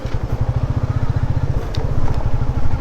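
A nearby motorcycle engine chugs in a steady low rhythmic thump while coasting down a steep road in Nepal on engine braking without the clutch, loud and close.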